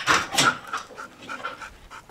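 A search and rescue dog pants rapidly and steadily at close range, with quick breathy huffs in a continuous rhythm and no talking.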